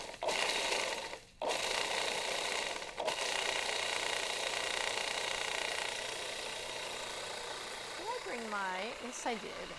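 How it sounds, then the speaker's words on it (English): A food processor pulsing and grinding nuts, cinnamon, nutmeg and baking soda into flour: a loud whirring motor broken by two brief pauses, then easing off before a short burst of speech near the end. "We're going to go ahead and just grind this all up"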